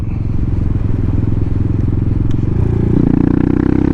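A small 239cc motorcycle engine rumbles loudly up close, a steady low throb that rises slightly in pitch toward the end.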